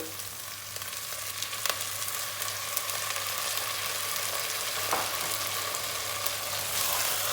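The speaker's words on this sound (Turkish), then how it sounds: "Bunları salçayla beraber bir kavuracağız." Potatoes and red peppers sautéing with tomato paste in a pot for a pea stew, a constant close hiss and sizzle with a few faint stirring clicks and no talking.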